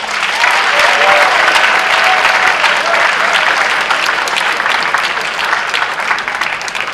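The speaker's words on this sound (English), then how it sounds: "I want you to give them a big round of applause" A large high school audience at a senior awards ceremony bursts into loud, sustained applause, a thick wash of many clapping hands that stays strong throughout and fades slightly toward the end.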